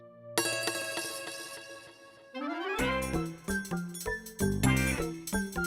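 A bright electronic phone ringtone melody plays for a couple of seconds, then shifts into a louder, choppier chiming pattern with repeated tonal bursts.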